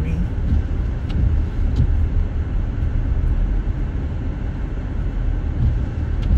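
A vehicle driving along a winter road, heard from inside as a steady, loud low rumble of engine and tyres, continuous with no clear breaks.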